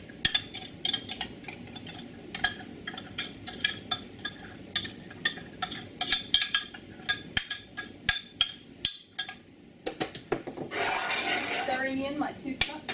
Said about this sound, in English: Stirring in my 2 cups of sugar.